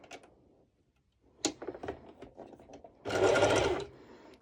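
A sewing machine set to its longest stitch length runs in a short, loud burst of rapid stitching through stretchy lycra mesh fabric, after a few quieter handling clicks and taps.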